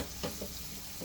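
Chopped garlic and onion sautéing in hot oil, a steady close sizzle broken by a few short stirring scrapes over about a second.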